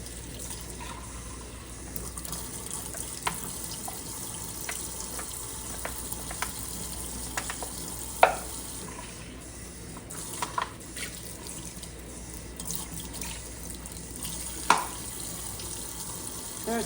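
Water runs from a tap into a sink while a cup is washed, a steady quiet stream broken by occasional clinks and splashes.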